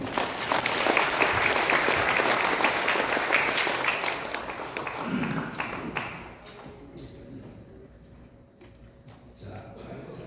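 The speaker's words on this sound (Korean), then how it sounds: "자, 박수로 모시겠습니다." Audience applause in a hotel banquet hall at a gathering of elderly supporters, loud and dense for about six seconds before thinning out into scattered claps, with some murmuring toward the end.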